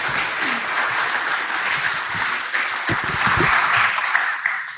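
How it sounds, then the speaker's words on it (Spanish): Lecture audience in Spanish gives sustained applause for an engineer after a talk on embankments and dams over soft soils, a steady dense clapping that continues throughout at even loudness. "agradecemos al ingeniero Miguel de la Torre, por favor, con un caluroso aplauso."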